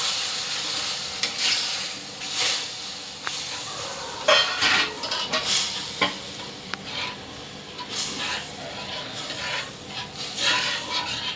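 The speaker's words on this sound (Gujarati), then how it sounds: "હવે તેની અંદર આપણે દૂધ અંદર એડ કરી દઈશું." A cup of milk is poured into roasted semolina in a pan for guava sheera, setting off a loud hissing sizzle, followed by continuous stirring with scraping strokes over a bubbling hiss.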